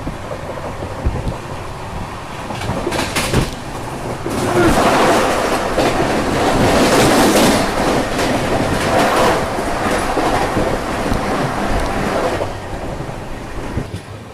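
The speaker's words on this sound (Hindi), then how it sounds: "अभी ट्रेन अपनी बहनगा बाज़ार रेलवे स्टेशन पहुंचने वाली है, होम सिग्नल जस्ट पार किया है।" The Coromandel Express in India rolls along the rails near Bahanaga Bazar station just past the home signal, a continuous loud rumble with rhythmic clatter and wind buffeting, swelling in the middle and easing toward the end.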